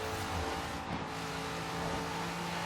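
A Corvette C7 engine revs hard at high RPM in the Forza Horizon 3 video game, a steady, loud, continuous drone with no talking.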